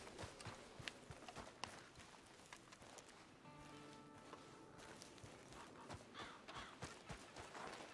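Quiet horse hoofbeats clip-clop at an uneven pace in the video game Red Dead Redemption 2, beneath a steady ambient wash, with a brief droning tone in the middle.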